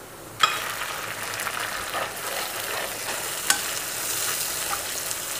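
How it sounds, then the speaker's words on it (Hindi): Onions and tomatoes fry in oil in a kadai, a steady close sizzle with stirring scrapes and a couple of sharp clinks as ingredients go in, no talking. "मैंने कढ़ाई में ऑयल डाला। और अब मैं ये प्याज़ इसमें डालूँगी और इसको हल्का सा ब्राउन कर लूँगी"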